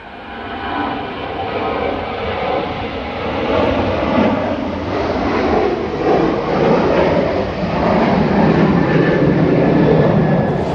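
A Qatar Airways Boeing 787 takes off close by, its jet engines building into a loud, broad, sustained roar that swells and holds to the end.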